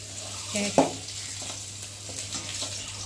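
Fried tengra fish heads lifted out of hot cooking oil, with a steady close sizzle and a brief clatter of utensil on pan early on, no voices.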